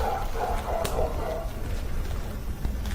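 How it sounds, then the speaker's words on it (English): Dogs barking from inside a building while people approach and enter, a few sharp yips rising over steady rumbling room noise at moderate distance. "more dogs still barking from inside"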